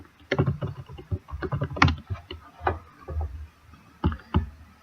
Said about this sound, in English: You can type in customer service,